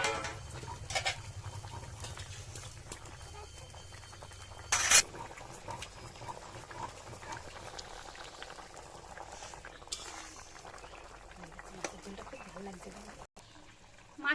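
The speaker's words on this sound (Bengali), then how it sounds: "ভেজে রাখা মাছ দিয়ে দেবো।" Fried bata fish going into simmering curry in a pot, with bubbling liquid and occasional stirring clatter, quiet and close, while a person talks over it.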